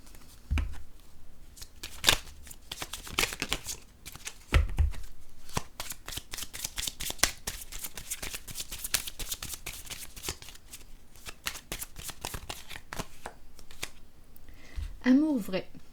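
Pink tarot-style cards are shuffled by hand for a reading, giving rapid crisp riffling and slapping bursts that carry on almost throughout, while someone speaks intermittently over them.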